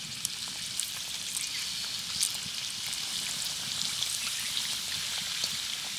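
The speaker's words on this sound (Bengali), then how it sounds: "উল্টে পাল্টে পিঠেগুলোকে ভালো করে ভেজে নিতে হবে।" Palm-fruit pitha sweets bubble in hot oil, a dense, continuous crackling sizzle with tiny pops scattered throughout, close and with no voices.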